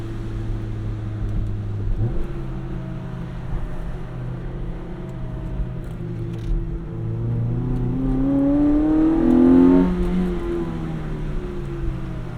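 Mazda NC Miata engine on a back road with the top down, a steady drone that rises as the driver revs and accelerates through a heel-toe downshift, with a swelling pitch sweep near the end.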